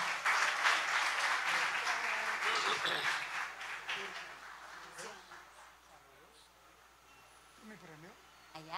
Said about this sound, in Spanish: los recibimos de nuevo con un fuerte aplauso